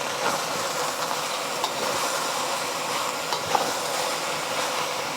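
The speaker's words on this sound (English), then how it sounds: "Just want to let it sear for about a minute" Beef sears in a hot pan while cooking mee goreng, giving a loud, steady sizzle with faint scraping from stirring throughout.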